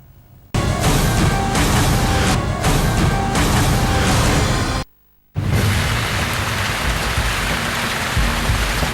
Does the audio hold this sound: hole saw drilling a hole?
no